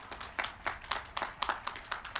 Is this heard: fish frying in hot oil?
no